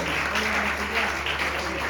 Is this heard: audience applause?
yes